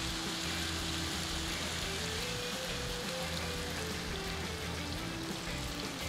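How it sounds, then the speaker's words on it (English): Coconut cream pours into a pan of browned pork belly for Bicol Express, giving a steady, continuous sizzling pour that holds at even loudness from start to finish, with no talking. "We're gonna add the coconut cream next."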